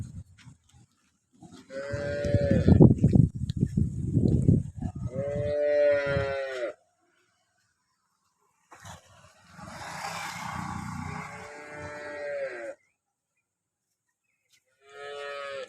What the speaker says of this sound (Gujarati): આજે ગાય એક ચાભણ આવી છે